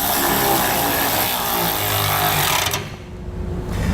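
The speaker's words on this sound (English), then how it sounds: "We can grab a 6mm Allen bit and we'll tighten up our bolts." A 6mm Allen bit on a power driver buzzes steadily while tightening bolts on a Firestone Ride-Rite air helper spring bracket on a 2008 Dodge, loud and close, then stops briefly before starting again.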